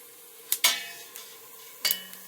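Spice mix is added to a soup pot and stirred, giving a couple of sharp metallic clanks and a brief scrape of a spoon against the pot, close and quiet with no talk.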